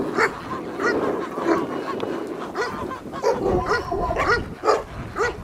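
A pack of about seven stray dogs barks continuously, some near and some farther off, the barks overlapping in a busy, uneven chorus.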